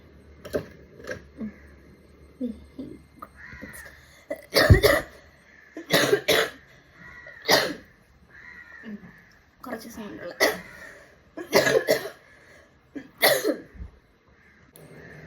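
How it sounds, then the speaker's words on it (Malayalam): A person gives a series of loud, sharp coughs in irregular bursts, some in quick pairs, close to the microphone, with brief talk between them. "കുറച്ച് സൗണ്ടുള്ള ചുമ."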